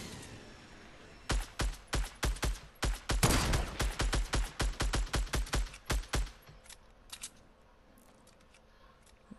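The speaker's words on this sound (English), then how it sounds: "I'm gonna shoot at this bush randomly just because." Rapid bursts of gunfire in the Fortnite video game, fired at a bush, crack out in a quick steady series of loud shots for several seconds, then trail off into a few scattered, fainter shots.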